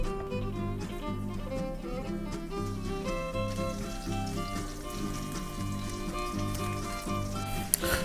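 Fish fries in Crisco and oil in a pan, a steady crackling sizzle with a faint rhythmic pulse running throughout, close and fairly loud with no voices.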